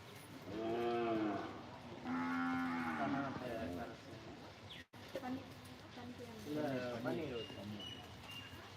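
A cow at a Friday cow-worship ritual moos repeatedly in long, loud, drawn-out calls spread across the clip, close by, with a brief cut in the middle.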